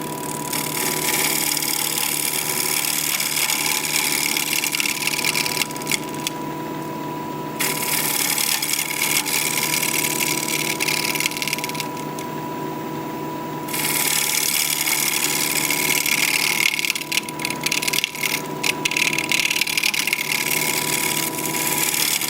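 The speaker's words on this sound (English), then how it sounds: "So I think I'll do a shear scrape here." A scraper shear scraping an alder live-edge bowl on a spinning wood lathe makes a loud, steady hiss and rasp over the lathe's hum, dropping out briefly twice as the tool lifts away.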